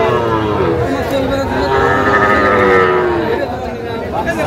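Sahiwal bull calves moo loudly and close at a cattle market, with one long drawn-out bellow in the middle and people chattering in the background.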